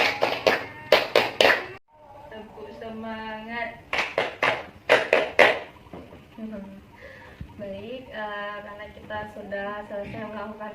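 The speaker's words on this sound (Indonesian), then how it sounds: "Tepuk semangat." Classroom group counselling session with students doing the rhythmic 'tepuk semangat' clapping game, bursts of quick sharp claps in patterned sets alternating with spoken chant and talk.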